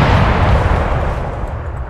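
Musket volley from infantry ranks in Empire: Total War, a loud, close roar of massed gunfire that booms heavily and then trails off over two seconds, with no voices over it.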